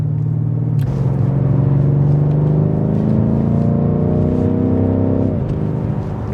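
A BMW F90 M5 Competition's engine and exhaust rumble loudly from inside the car as it accelerates through a gear change, with the note rising steadily and then dropping at a second shift. The drone is continuous and there is no speech.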